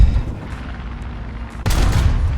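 Tank cannon fire in the War Thunder video game: after a rumbling engine-like hum, a single loud, sharp blast erupts and is followed by a sustained roaring tail. No one speaks.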